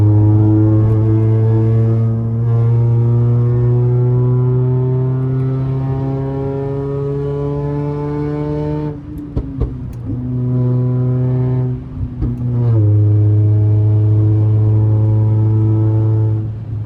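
A catless Toyota Camry engine revs in city traffic, a loud, steady droning tone that climbs in pitch for about nine seconds, drops briefly, then rises again twice, close and alone without talk.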